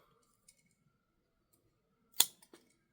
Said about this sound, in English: I have not tried to cut this cordage